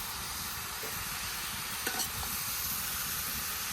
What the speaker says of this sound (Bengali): সব কিছু ভালোভাবে মিশিয়ে নিই।